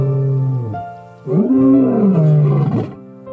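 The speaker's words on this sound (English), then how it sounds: "the lioness roar can terrify any animal" Lioness roaring, a deep, loud, close call that opens with a groan, pauses briefly, then swells into a long rising and falling roar before fading.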